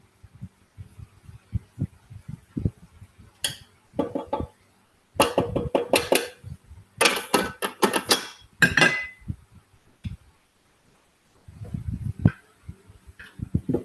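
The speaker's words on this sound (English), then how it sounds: "We'll just scrape down the bowl." Spoon scraping around a mixing bowl during meal prep, a series of short clattering and scraping bursts with brief pauses between, fairly close and clear with no talking.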